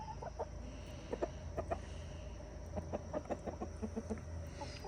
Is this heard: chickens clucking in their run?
yes